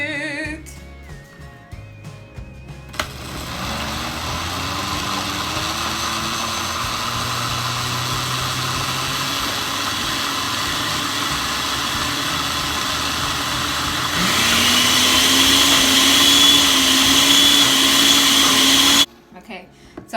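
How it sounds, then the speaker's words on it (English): A blender whirs loudly and steadily while blending an egg, avocado, mayonnaise and oil hair mask, its pitch rising in a surge near the end before it cuts off abruptly. "So what we're gonna do is we are going to blend it."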